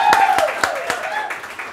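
An audience at a cooking demo and wine pairing gives a short round of applause made of a few scattered, separate claps, with talking voices over the top.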